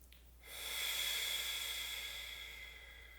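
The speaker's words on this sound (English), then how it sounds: "Breathing into the chest." Deep breathing during a chair yoga session: one long, close, airy inhale rising in after a brief pause and slowly fading, breathy and hissing with no talk over it.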